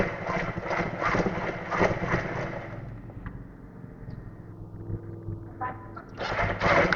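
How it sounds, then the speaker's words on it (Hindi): A sewing machine stitches the edge of a gents salwar in rapid rhythmic bursts, stopping partway, then whirring briefly again, close and moderately loud. "और यहाँ पर किनारे की सिलाई लगा लेनी है।"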